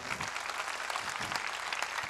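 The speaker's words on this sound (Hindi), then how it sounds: "तालियां बजाएं।" A church congregation claps in a soft, steady burst of applause, somewhat distant and continuous throughout.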